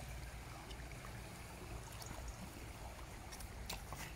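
A river flows in a steady rushing wash, soft and even throughout, with light splashes as someone wades through the water.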